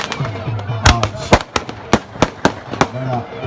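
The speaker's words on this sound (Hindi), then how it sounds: "आतिशबाजी का शानदार मुजाहरा, बड़ा शानदार सा माहौल है" Fireworks burst over a packed stadium at the Jandola culture festival and football tournament: about ten sharp, loud bangs at irregular intervals, with voices and crowd sound running underneath.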